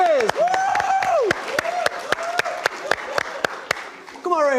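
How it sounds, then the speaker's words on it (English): A show audience applauds a performer while a loud voice shouts and cheers over it. Sharp, scattered claps stand out against the speech, and then the speaking resumes at the close. "Let's give him a round of applause."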